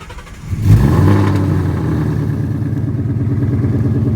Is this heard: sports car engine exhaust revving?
yes